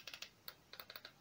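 Plastic buttons on a cheap airsoft headset click in a quick, close series of about nine sharp, light taps with short gaps.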